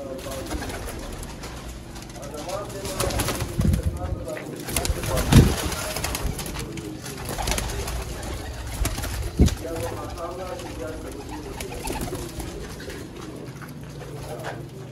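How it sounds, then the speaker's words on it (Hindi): Lahori, Kasuri and Sialkoti pigeons coo in a loft crowded with birds, a steady soft murmur of low calls with a few louder bursts, mixed with handling noise and background voices. "यहाँ पे आपको लाहौरी, कसूरी, सियालकोटी हर तरह के परिंदे नज़र आएंगे।"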